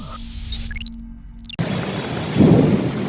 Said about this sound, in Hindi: शनिवार की दोपहर में दुर्गापुर शिल्पांचल में जोर की आंधी बारिश हुई।